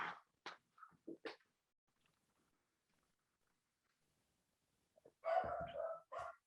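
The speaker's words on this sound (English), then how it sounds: "Can you hear Eli barking?" A few sharp dog barks at the start, then near silence, followed by a louder burst of barking or yapping close by near the end.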